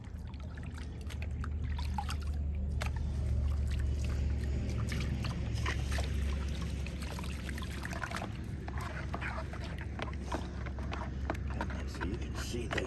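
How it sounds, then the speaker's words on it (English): Gold panning of concentrates from a high banker sluice, with water continuously sloshing, trickling and swirling in a small pan outdoors. A steady, fairly close watery wash runs throughout with no speech. "Now what I want to do is pan this out."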